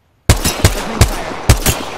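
Sharp bursts of automatic gunfire in the shooter game Apex Legends, starting abruptly after a short silence and firing in quick, loud, uneven shots.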